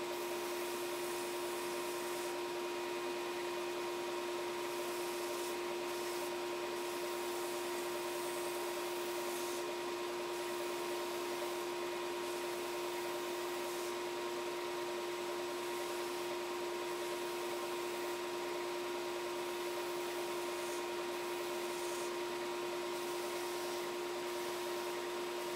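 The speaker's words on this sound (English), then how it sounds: "I decided to use my belt sander and disc sander combo to get rid of those rough edges" A belt and disc sander combo grinds the rough edges of a swimbait, a steady, constant mechanical whirr with a high abrasive hiss that runs unbroken and fairly loud, with no voices.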